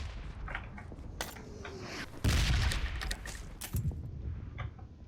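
Bombardment explosions from PUBG Mobile on the Erangel map: booming blasts and gunfire-like bursts over a steady rumble, with one heavy, loud impact near the middle and further sharp cracks afterward.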